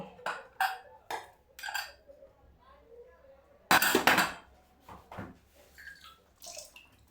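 A spoon scrapes and clatters in a pan while jackfruit thoran is stirred, giving a few brief knocks and a louder burst of rattling, with someone speaking between the sounds.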